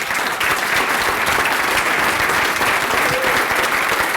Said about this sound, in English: Can we give a round of applause to Dave Neff?